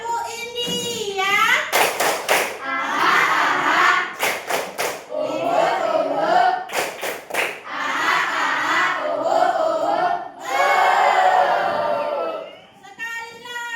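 A class of Indonesian middle-school pupils performs the tepuk India clapping chant, with loud group chanting and clusters of sharp hand claps in rhythmic bursts, close and lively, mixed with children's voices.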